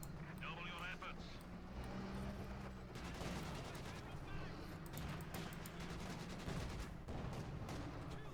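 Bursts of machine gun fire and battle noise from the strategy video game Company of Heroes 2, rattling in quick volleys beneath a commentator's steady talk.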